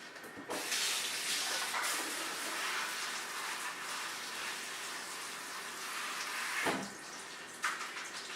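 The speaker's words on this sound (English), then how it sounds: "And then I go over to the sink and I rinse them off." Running tap water pours over cut lettuce leaves in a strainer at a kitchen sink, a steady close hissing splash that continues for several seconds with a brief interruption near the end.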